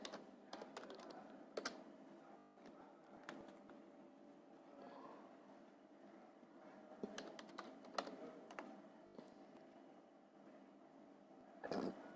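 Keyboard typing on a computer during a classroom lab exercise entering data, with bursts of quiet clacking keystrokes and short pauses, faint and alone without talk.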